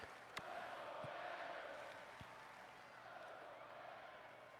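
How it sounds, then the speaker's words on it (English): A large stadium crowd at a Michigan at Wisconsin football game roars faintly and continuously in the distance, a low, sustained cheer with a few sharp bumps. "Gets this crowd back into it, as you can hear."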